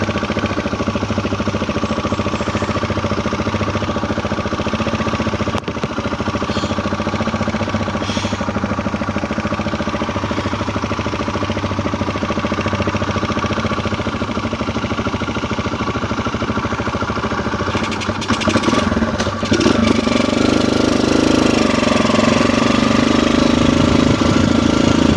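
A motor engine idles steadily at close range, a constant low rumble with a brief rise in intensity near the end.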